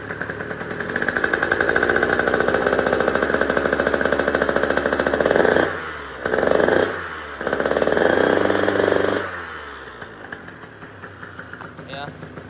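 A 2022 125cc two-stroke dirt bike engine, a GasGas/KTM/Husqvarna, runs close by during its heat cycle, a steady buzzing idle broken by two short dips and a blip, then fading out near the end.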